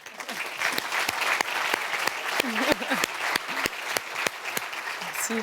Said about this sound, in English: a big round of applause for our first special guest for today's draw, Laura Giorgio